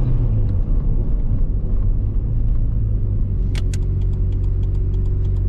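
Nissan Skyline RB25 engine idling and settling back to a steady idle, a loud continuous low rumble with a faint clatter of clicks near the end.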